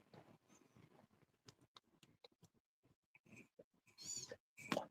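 Young kittens mewing in a quiet room at night, several short scattered cries and small rustles, with a couple of louder, closer meows near the end.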